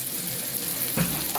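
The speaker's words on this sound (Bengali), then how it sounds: "কর্তার জন্য এখন পেঁয়াজ ভাজা হচ্ছে।" Onions frying in a pan at a home kitchen, a steady broadband sizzle held close and even for the whole moment, with one brief brighter crackle near the end.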